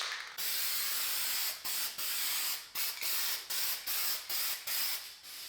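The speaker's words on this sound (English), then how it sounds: "I'll spray another coat and then let it dry for 24 hours." A second coat of frosting spray is applied to bathroom window glass, with a close aerosol hiss in a long opening burst followed by a quick series of short sprays.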